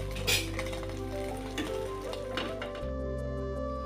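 Roti flatbread frying in a hot pan for an egg roll gives a steady close sizzle, with a few light utensil clinks and stirring scrapes; the sizzle drops to a quieter hiss near the end.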